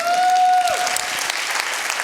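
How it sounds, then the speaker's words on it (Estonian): An audience at a business forum talk breaks into steady applause, dense clapping from a crowd filling the room right after a sung tone fades out. "Aplaus"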